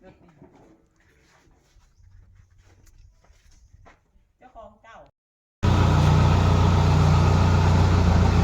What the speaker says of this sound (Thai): เสียงเครื่องยนต์นะครับ เสียงเครื่องยนต์กับ เสียงนุ่มหูดีครับ